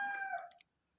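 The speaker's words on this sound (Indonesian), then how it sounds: "Itu suara alami, suara ayam berkokok." A rooster crows once at dawn, a thin, faint, somewhat distant call with a held tone that fades out after about half a second, leaving near silence.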